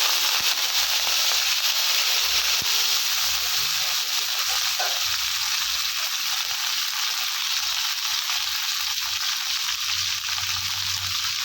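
Steady, crackling sizzle of fresh curry leaves frying in hot oil, loud and continuous, with a few sharper pops early on.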